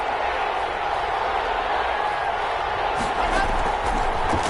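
Crowd noise in an American football video game, a steady stadium roar that grows louder and more excited near the end, with claps and a thump mixed in.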